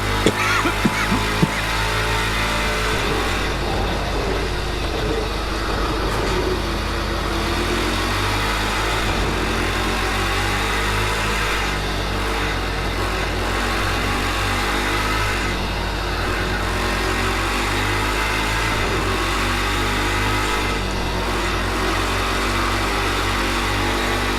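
An LMP3 racing car engine in the video game Project Cars 2 drones steadily at high revs throughout, its pitch sliding up and down as it shifts gears, loud and continuous with no voices.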